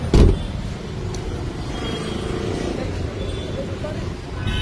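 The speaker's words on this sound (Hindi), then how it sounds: "जब हम लॉक करेंगे ये गाड़ी लॉक हो गई।" Remote central locking on a car gives a single sharp clunk right at the start, followed by a steady low hum of surrounding traffic.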